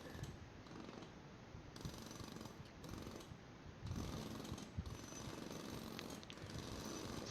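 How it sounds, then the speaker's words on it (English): Jackhammers rattle in an airport-building video game, a faint, continuous mechanical chatter with uneven bursts and small clanks, quiet and without speech. "Jackhammers"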